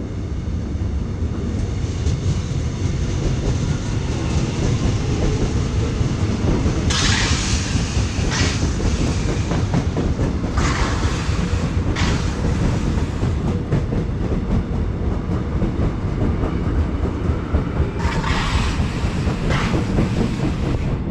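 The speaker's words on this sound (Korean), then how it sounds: "철도 소음을 녹화용 부분 틀어드릴게요." An above-ground railway train passing near an apartment complex beside a transfer station, a loud continuous rumble with rhythmic clacking of wheels over rail joints and bursts of hissing, recorded close by with no talk.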